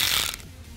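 A ratchet fitted with a 10 mm socket clicks rapidly as it works a bolt loose on a 2005–2012 Honda Odyssey sliding door, a brief close burst of mechanical ticking.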